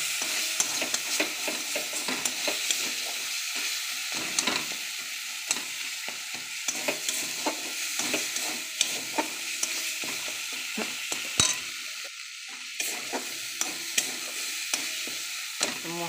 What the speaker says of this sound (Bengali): মশলাটা ভাজা ভাজা হয়ে গেছে বন্ধুরা, দেখো।